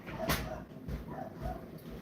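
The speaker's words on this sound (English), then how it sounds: "My neighbor's dog is like barking over my dog." A neighbour's dog barks in short bursts a few times over roughly two seconds, fairly close and moderately loud against a low background rumble.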